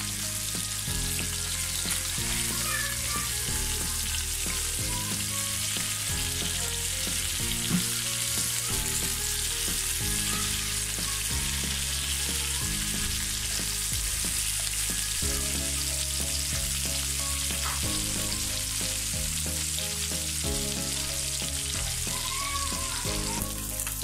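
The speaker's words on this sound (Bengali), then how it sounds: "আমার মাছটা মুচমুচে ভাজা হয়ে গেছে, আমি এখন তুলে নিচ্ছি।" Chapila fish fry crisp in hot oil, giving a loud, dense, continuous sizzle and crackle with no pause and no talking.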